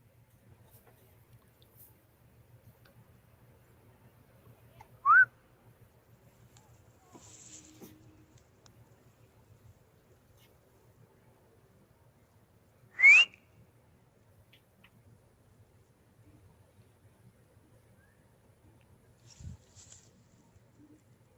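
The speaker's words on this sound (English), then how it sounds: "break down these whistles. So I'm gonna go ahead and play it" Recorded whistles play faintly in an otherwise quiet space: a few sharp, brief rising whistles spaced several seconds apart, with a low hum underneath.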